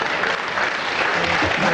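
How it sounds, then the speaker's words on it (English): Steady, dense applause from a television panel show's studio audience, loud and continuous throughout with a murmur of voices mixed in. "thank you, that's a nice easy round of applause"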